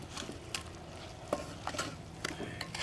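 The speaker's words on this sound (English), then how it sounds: "And then we'll give that a stir." Cowboy beans being stirred in a Dutch oven, a utensil scraping and clinking against the pot in irregular strokes over a soft simmering sizzle, close and fairly quiet.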